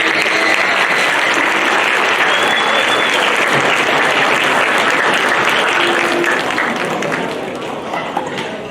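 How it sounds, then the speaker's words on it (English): Parents and guests at a Lewis Middle School spring band concert give a band a round of applause, thick, continuous crowd clapping that stays loud before thinning slightly near the end, with murmured voices beneath. "Please give them a round of applause."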